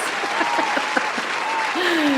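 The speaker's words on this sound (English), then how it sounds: "I need you to one more time give a round of applause to our guest today, Hex Cougar, Pauline Herr" A studio audience applauds the interview guests Hex Cougar, Pauline Herr and So Sus with steady, dense clapping that runs the whole moment, while a voice speaks over it.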